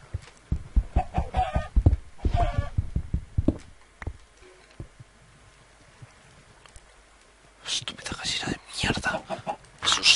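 Chickens cluck in a survival video game, sounding in loud bursts near the end after stretches of talking and quieter ambience.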